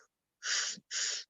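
Two strong, breathy inhales in quick succession, each lasting under half a second and separated by a brief gap, sound close and fairly loud, with no talking.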